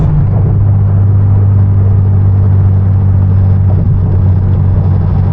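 A manual Hyundai Genesis Coupe cruises through downtown city streets at night, its engine holding a steady, loud low drone with road rumble throughout and no talking.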